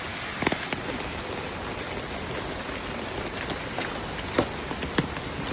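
Rain falls steadily by the sea in a soft, even hiss, with a few sharper drops spattering close by now and then and no voices.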